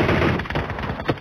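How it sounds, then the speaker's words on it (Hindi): Rapid gunfire in a PUBG-style shooter, with a Groza rifle and S12K shotgun in play, sounding as a dense run of loud close bursts, one sharp crack standing out near the end. "पागलों की तरह क्यों फायर कर रहा"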